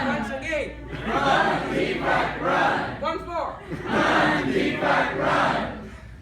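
Audience at a Nashville storytelling event chanting together in loud repeated bursts, about three rhythmic rounds of massed voices, with some laughter and chatter between them.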